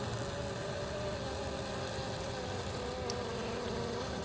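Honeybees hum steadily on the comb of a hive during an inspection, a dense, continuous buzz of many insects close by with no talk.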